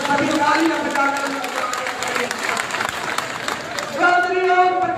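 A crowd at an Indian National Lok Dal party workers' rally in a grain market claps and cheers for the arrival of Chaudhary Om Prakash Chautala, a loud, steady wash of applause with voices and chanting mixed through it, rising again near the end.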